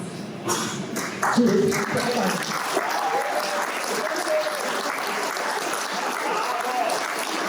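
A crowd at a school graduation applauds graduates steadily for several seconds, a dense wash of clapping that swells at the start and holds, with a few voices calling out faintly.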